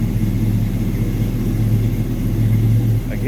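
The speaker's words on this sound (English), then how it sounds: "so you can hear this 350 rumble" 1941 Chevrolet Special Deluxe street rod with a 350 V8 and a mild cam idling at close range, a steady deep rumble with a slight lope throughout.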